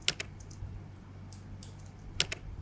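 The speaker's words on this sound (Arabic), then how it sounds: "ممكن نجيب صوت الميكانيكال كيبورد نحطه هنا" Scattered clacks of a mechanical keyboard used as a typing sound effect, a few sharp keystrokes at the start and again near the end over a low steady hum.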